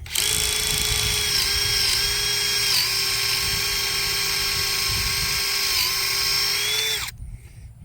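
A new auger bit on a powered drill bores a hole for an H brace on a barbed-wire fence, a steady high whine held for about seven seconds with slight pitch dips before it cuts off.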